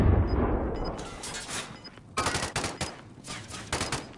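Rapid bursts of gunfire in a battle royale shooter, loud and close, with clustered volleys of shots and a brief pause before another intense barrage.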